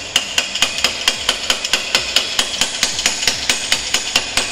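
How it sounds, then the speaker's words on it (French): Metal hammer blows on a socket held against a bolt, driving it out of a Suzuki GT125 front fork during a rebuild. Steady, evenly spaced sharp strikes, about four per second, close and fairly loud, no talk. "une fois que tu n'arrives plus à matraquer par-dessus le boulon, pas fort, hein"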